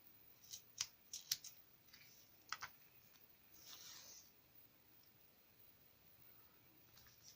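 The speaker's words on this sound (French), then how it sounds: "Alors, normalement, j'ai une paire de ciseaux pour ça." Scissors snip through card in a few quick, close cuts, a cluster of sharp clicks followed by a brief pair, then a soft sliding rustle before quiet.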